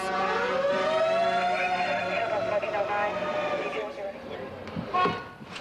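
A loud wailing siren on a Toronto street rises and holds its pitch across several seconds, with street noise and voices mixed in beneath it.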